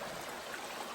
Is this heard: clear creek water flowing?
yes